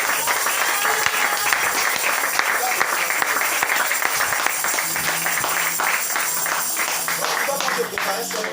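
A church congregation applauding: a dense patter of hand claps keeps going beneath a speaking voice, steady and fairly loud, easing slightly toward the end.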